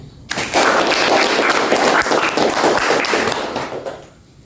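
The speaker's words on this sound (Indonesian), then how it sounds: "Ayo berikan tepuk tangan yang meriah kepada Kak Andi Naila dan Kak Andi Alif." Audience at a school talk show event giving lively applause, a sudden loud burst of dense clapping that holds steady for several seconds before tapering off.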